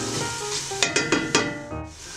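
Onions and garlic sauté in a pan for cioppino, a steady soft sizzle broken by four quick stirring scrapes in the middle, close and fairly quiet with no talking.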